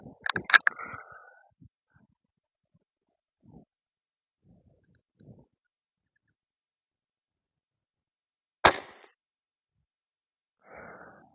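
A PCP air rifle fitted with a Sonus moderator fires outdoors at a ground target: a muted, sharp pop near the start, then a quiet lull with faint rustles, and a second short crack later on.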